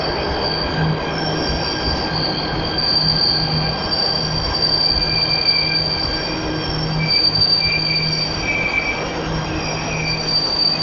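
An Indonesian commuter train's wheels squeal at a station: shrill, wavering metallic tones ring steadily for about eleven seconds over a dense rumbling rail noise, loud and close.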